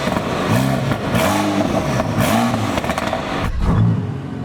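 Car engine with its exhaust valves open, revving in several rising and falling bursts, loud and close, with a brief clatter near the end.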